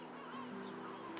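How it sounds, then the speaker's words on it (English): Goose-like bird honks sounding from played travel music, a few short honking calls over a steady musical bed, moderately loud and continuous. "I heard the birds."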